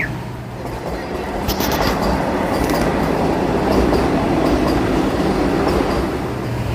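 A train rolls past near the Kasara Ghat tunnel on the Mumbai route, a loud close rumble of wheels and rail clatter that swells and holds steady throughout, with faint squeals, and no talk.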